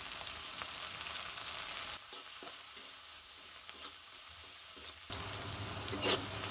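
Onion and chili sizzle in hot oil in a karahi with salt added, a steady close frying hiss that drops away midway, with faint scraping stir taps, then swells again.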